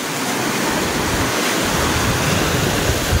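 Ocean surf at a beach park along a highway, a loud, continuous wash of breaking waves with wind noise, no voices.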